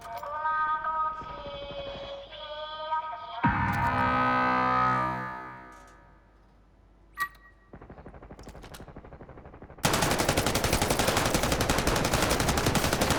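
Bursts of synthetic video game gunfire, ending in a loud rapid automatic volley with distorted, echoing effects.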